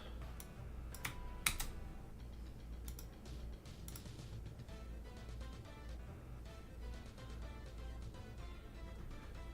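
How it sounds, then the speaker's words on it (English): Rapid clicking of typing on a computer keyboard during a Bit Heroes Quest game session, with a few sharper key strikes early on and steady tapping over a constant low hum, no speech. "I'm tired of typing this out, so let me go ahead and do that"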